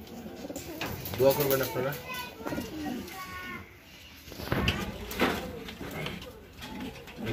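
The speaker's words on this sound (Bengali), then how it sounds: "এখানে আমার লফটের একটি কবুতর, 8 ফেদারের একটি কবুতর, মাদি কবুতর" Racing pigeons coo in a loft, repeated soft throaty calls rising and falling near the microphone while someone talks over them and faint children's voices sound in the background.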